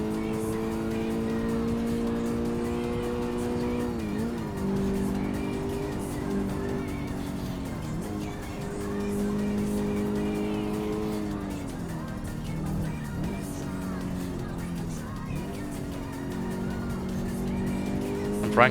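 An underpowered rear-wheel-drive car races the Nordschleife in Assetto Corsa. Its engine drones steadily, rising and falling with gear changes, and tires squeal now and then. Continuous and close throughout.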